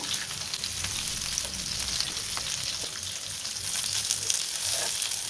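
Semolina-coated fish fries in hot oil with a steady, close crackling sizzle and scattered pops, with no talking.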